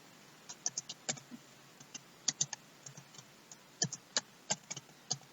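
Rapid, uneven keystrokes on a computer keyboard as code is typed, crisp close clicks arriving in short bursts with brief pauses, alone without talk.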